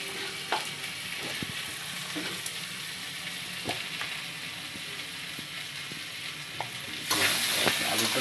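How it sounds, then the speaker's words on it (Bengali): Potato pieces for a rui fish curry fry in hot oil, giving a steady close sizzle with occasional stirring clicks and spoon scrapes, growing louder near the end. "আলুটা লাল লাল করে ভেজে দিচ্ছি।"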